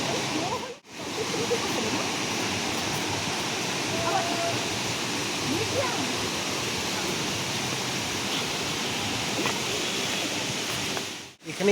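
Ban Jhakri Falls near Gangtok, Sikkim, roars as a constant, dense wash of falling water, loud and enveloping throughout, with brief dropouts near the start and end.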